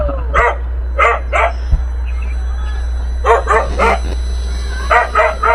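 A dog barks in clusters of three or four sharp woofs with a few yips, near and fairly loud over a steady low hum, with pauses between bursts.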